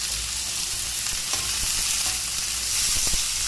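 Shrimp frying in a pan give a dense, steady sizzle with a few faint clicks, heard close up and with no talking.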